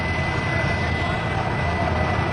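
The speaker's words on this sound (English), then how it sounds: "That freaking engine's still running." Engine of a crashed airplane keeps running, a loud continuous roaring hiss with a steady broadband rush, heard close and unbroken with excited voices mixed in.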